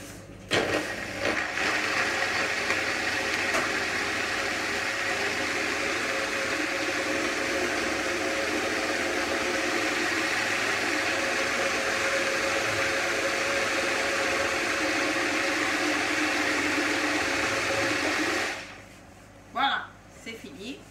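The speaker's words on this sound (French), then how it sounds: "Je vais mixer à nouveau. Et là, un peu plus longtemps." A blender runs for a long stretch mixing carrot cake batter with added sugar, giving a steady loud motor whir with a churning roar. The motor then stops, leaving a few faint clunks.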